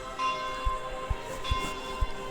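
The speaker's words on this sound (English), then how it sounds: "why is the church bell going off at 30 minutes?" A church bell tolls with sustained ringing tones, joined by a few dull low thuds at irregular intervals.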